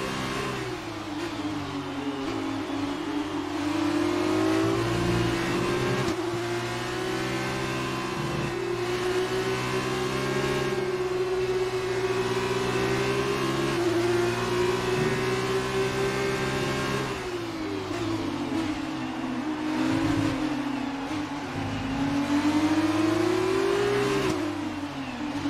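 Formula 1 race car engine in the F1 2019 game on the final lap: a loud, steady high-revving whine close up, its pitch rising and dipping with gear changes and throttle, running continuously throughout.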